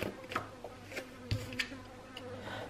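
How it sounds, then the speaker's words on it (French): A fly buzzes in a room, faint intermittent buzzing passes with soft irregular bursts and a few ticks, close but quiet, with no voices. "Oh, il y a une mouche."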